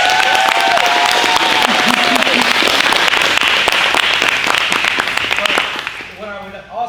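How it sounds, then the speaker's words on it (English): A crowd applauds Florida state champions at an All Stars award ceremony, loud sustained clapping and cheers that fade out near the end as a voice begins to speak. "you guys should deserve a big round of applause one more time"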